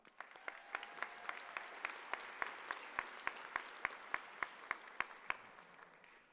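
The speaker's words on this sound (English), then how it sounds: "Round of applause." An audience applauds at a middle school culmination ceremony. The applause is faint and sustained, with evenly spaced sharp claps standing out over a softer wash of clapping and no speech.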